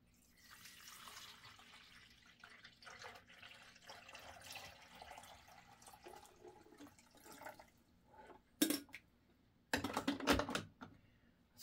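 Water running from a tap into a container, a soft steady pour under faint background noise, then a few louder splashes and bursts near the end.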